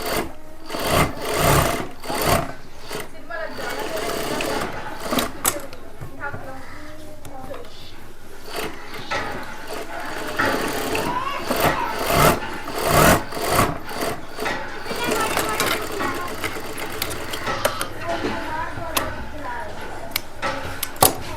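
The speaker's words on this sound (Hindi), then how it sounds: "यहाँ पर ऊपर से एक किनारे की सिलाई लगाएंगे" Sewing machine stitching the edge seam on a kurta shoulder at home, running in uneven bursts with rapid mechanical clatter, while a person talks over it throughout.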